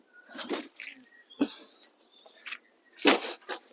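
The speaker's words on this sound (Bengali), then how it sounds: "আপনাকে যে পায়রাটা দিচ্ছি একদম খুব সুন্দর পায়রাটা বেরিয়ে গেল বাইরে" A fantail pigeon's wings flap in a few quick, close bursts as the bird takes off, with quiet pauses between them and no voices.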